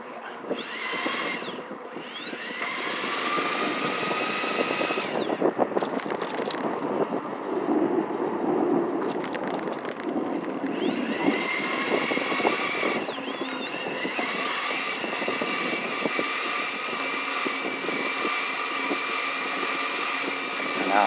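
A CYC X1 Pro mid-drive electric bike motor with a BAC 855 controller runs in gear 1, giving a steady high-pitched whine with mechanical ratcheting and drivetrain clatter close by, holding a fairly even level throughout.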